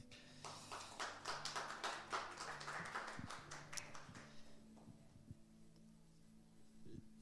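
Church congregation clapping together during worship, a dense patter of many hands that swells and then thins into scattered claps before fading to near silence.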